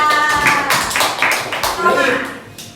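Schoolchildren in a Thai classroom clap in uneven bursts during a health lesson, loud and close, with chatter and voices mixed through.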